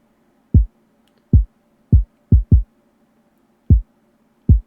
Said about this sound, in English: this kick is a little bit too sharp. What you can do is take this like, high frequencies and just do like this